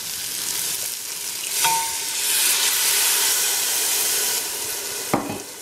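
Water poured onto lamb searing over high heat in a pressure cooker for a lamb curry erupts into a loud, steady sizzle and hissing steam, with a couple of brief clinks and no talking.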